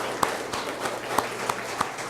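An audience gives a round of applause at a science celebration in Toledo, with fairly sparse, scattered claps and a few sharp louder ones standing out over a soft background murmur.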